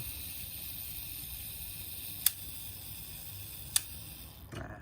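The self-timer of a Yashica Electro 35 MC film camera runs with a steady faint whir, broken by two crisp mechanical clicks a second and a half apart, and a soft shuffle at the end.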